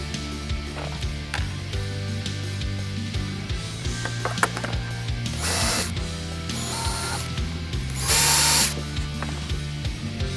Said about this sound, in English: you're going to go ahead and mark the holes and then drill them